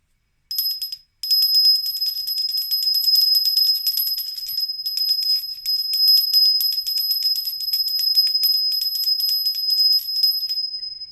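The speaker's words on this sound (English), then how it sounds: "you just could ring a bell over the candles, over your workings" A small bell rings in rapid, continuous bright tinkling for several seconds after a brief first shake, clear and close, with no talking.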